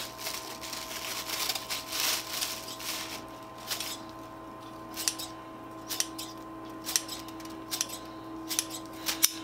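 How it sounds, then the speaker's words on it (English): Freshly sharpened shears closing with a faint wiping, scissor-like snip, repeated several times at close range over a steady background hum. "when you put the shears together, you want to have that little bit of a wiping sound."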